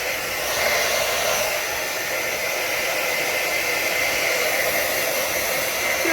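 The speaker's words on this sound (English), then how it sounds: "I'm going to finish drying off Yesi." A blow dryer runs steadily as it dries a wet parrot after a bath, its continuous hissing airflow holding close and even for the whole stretch.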